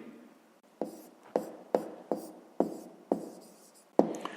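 Pen scratching on paper up close, seven or eight short strokes each opening with a small tap, quiet and evenly paced, alone without speech.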